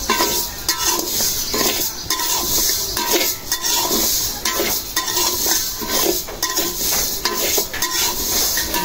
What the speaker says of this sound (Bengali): মুগ ডাল আর মাসকালার ডাল দুইটা একসাথে ভাইজা নিব।